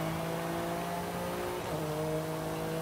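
An all-wheel-drive Acura NSX in Forza Horizon 5 holds a steady engine drone at launch control, then the pitch shifts as it launches, a continuous moderate car sound with no talking.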